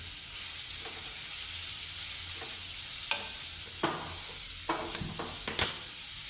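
Onion sautéing in a pan for a vegetable dish, a steady soft sizzle with intermittent spatula scrapes and stirring knocks, close and fairly quiet, no talking.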